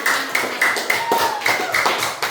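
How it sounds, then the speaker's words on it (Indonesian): A school class claps together during a science lesson on forces, a short burst of rhythmic hand claps from several students, close and fairly loud, with a voice briefly audible between the beats. "Tepuk tangan untuk semuanya"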